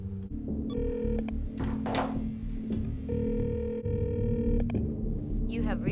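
A telephone call goes out: a dial tone and beeping keypad tones, then a ringback buzz, with faint voices and a short thud in the background, heard close through the handset.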